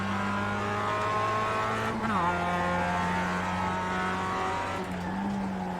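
Race car engine drone from an iRacing MX5 Cup sim race at Okayama, steady and loud, with a brief pitch dip as a car spins out and a faint tire squeal; no talking.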